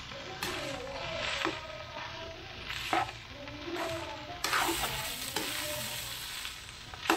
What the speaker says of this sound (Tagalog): Dandahan lang ang ating paghalo nito kasi marami.